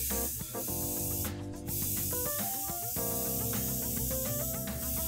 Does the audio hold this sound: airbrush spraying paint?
yes